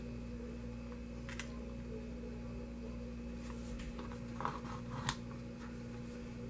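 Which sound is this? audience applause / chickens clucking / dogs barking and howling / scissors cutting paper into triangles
scissors cutting paper into triangles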